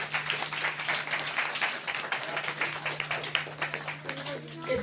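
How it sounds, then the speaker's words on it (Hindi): An audience at a Hindu religious discourse on the Shiv Mahapuran claps together in a dense, sustained patter for several seconds, with a steady electrical hum underneath. "ताली बजानी पड़ेगी।"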